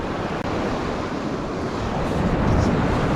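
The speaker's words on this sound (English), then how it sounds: "We're gonna get hit with waves." Ocean surf rolls in on a sandy beach, a loud, steady roar of breaking waves mixed with gusty wind buffeting the microphone, building slightly toward the end.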